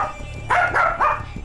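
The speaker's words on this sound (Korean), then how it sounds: "왜 이렇게 짖는 것 같아?" A small, reactive dog barks loudly three times in quick succession at close range, with sharp, piercing yaps over a quiet room.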